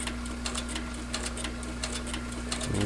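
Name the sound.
sewing machine stitching a leather holster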